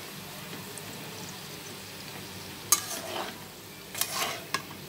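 Potatoes fry quietly in a pan for aloo tamatar bhujia, under a faint steady sizzle, with a couple of short scraping stirs in the second half.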